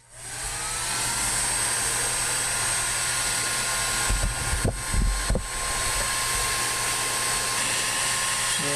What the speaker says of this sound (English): let's turn on the heat gun and I'll show you what that looks like